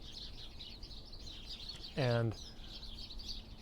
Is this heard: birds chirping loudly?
yes